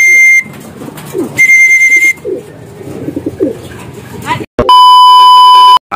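Racing pigeons arriving home after a training flight coo softly near a loft, with someone speaking and sharp electronic beeps from a timing clock repeating loudly.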